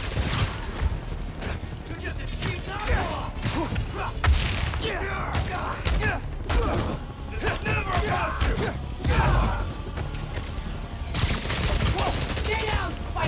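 Enemy glow stick guns firing during a Spider-Man: Miles Morales street fight, a busy stream of rattling shots and clanking mechanical impacts mixed with combat noise, with voices talking under the action.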